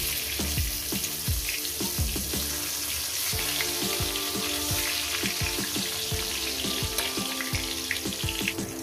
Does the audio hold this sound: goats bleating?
no